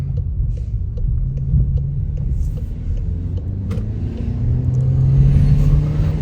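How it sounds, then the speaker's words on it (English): A Volkswagen Arteon engine revs in first gear, a steady low rumble from inside the car that climbs and grows louder toward the end, with faint clicks and no talking. "You don't have to rev it that high out of the first gear, especially the first gear"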